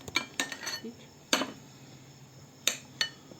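A knife taps and clicks against a cutting board as it slices dragon fruit (pitaya) into small cubes, with a handful of sharp, separate strikes spread over a few seconds in a quiet kitchen.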